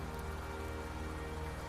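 Rain falling as a dense, steady hiss of drops on surfaces, continuous and even across the whole moment with no voices.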